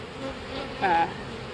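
Honeybees buzz during the inspection of a very large hive stacked six to eight boxes high, forming a steady close drone. One louder, higher-pitched buzz swells briefly near the middle.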